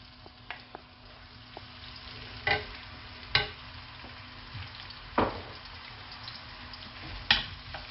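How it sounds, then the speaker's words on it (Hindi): Two medium onions fry with cumin seeds in a pan, a low steady sizzle broken by several sharp stirring scrapes and knocks of the spoon against the pan. "अब मैं प्याज को अच्छी तरह भूनूंगा और इसको लाइट गोल्डन करूंगा।"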